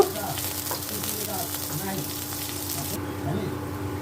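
Onion fries in hot mustard oil with dried chillies in a wok, a continuous close sizzle with light stirring and crackle throughout.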